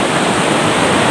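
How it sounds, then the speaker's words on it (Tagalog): Ocean waves at Tagkawayan Beach, Palawan, make a loud, steady, broadband wash of surf that fills the whole moment without pause. "hindi siya ganong malakas yung alon ngayon"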